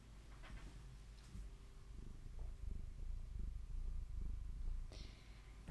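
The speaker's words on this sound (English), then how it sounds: "Could you hear her purr?" A cat purrs close up in a steady, continuous low rumble that runs the whole time, with no talk over it.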